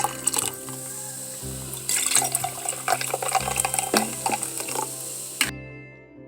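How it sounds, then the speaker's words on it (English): Fizzy water poured into a rabbit brush flower infused bourbon cocktail with simple syrup: a steady close liquid pour and fizz lasting several seconds, then stopping abruptly. "And just a little bit of fizzy water."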